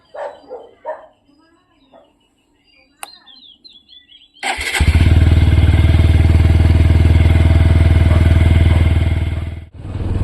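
Dogs bark and a voice speaks briefly before a motorcycle engine starts, then the engine runs in a loud, steady close roar for several seconds, dips briefly, and continues.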